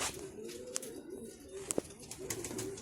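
Pigeons coo softly in low, throaty murmurs against a quiet background, with a few sharp clicks and taps scattered through.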